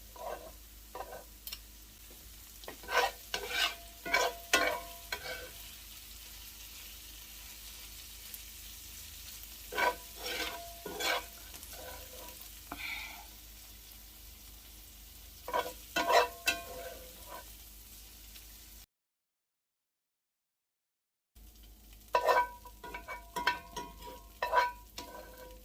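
White onions caramelizing in a pan, a soft sizzle broken by repeated bursts of spatula stirring and scraping, with one brief silent gap and no talk.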